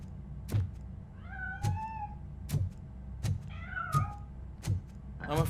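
A cat meows repeatedly in the video game Robocop: Rogue City, several plaintive mewing calls spaced between regular heavy thuds, like footsteps, all fairly close.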